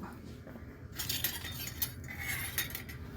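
A stainless steel spoon clinks against other metal utensils, light metallic chinks and jangles repeating over a steady background hum, close and moderately loud.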